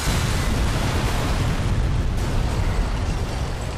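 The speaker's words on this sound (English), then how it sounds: "And using the explosions to cover, Wesker escapes." Explosions in the Resident Evil Chronicles video game, a dense, continuous roar of blasts and bursts with heavy low rumble, loud and sustained throughout with no talking.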